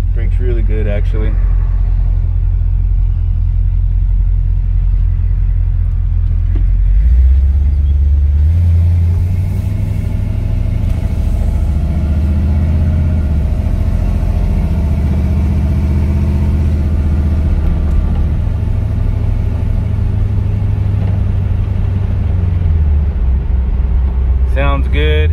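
A loud, rumbling 1971 Chevy Nova engine running with no exhaust or mufflers, a deep steady idle that swells as it revs midway, then settles back.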